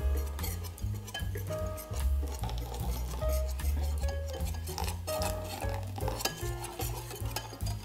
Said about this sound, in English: Whisk until all of the flour bits have dissolved